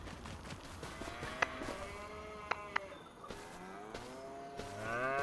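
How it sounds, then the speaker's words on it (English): A herd of cattle in Farming Simulator 25 on the Ricci Mountain map, many overlapping moos rising and falling, some near and some farther off, over a steady outdoor background with a few sharp clicks. "Then we got our 50 cows."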